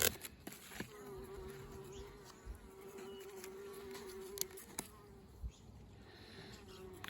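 Honeybees buzzing inside small mini mating nucleus hives in a backyard apiary, a soft steady drone from a weak colony, close and quiet, with a few light knocks and handling clicks.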